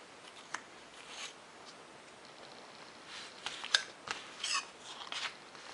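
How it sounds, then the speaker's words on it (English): Scissors snip a 45-degree notch in paper plans for a micro bat wing model. The quiet, close cuts come as a few short crisp clicks, mostly in the second half. "So again, I'll just trim off a little 45-degree notch here."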